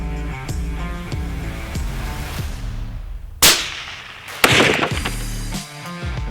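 A Hammer bullet is fired into a ballistic gel block at an outdoor range, two sharp loud cracks standing out over a steady background of tonal ringing and rumble.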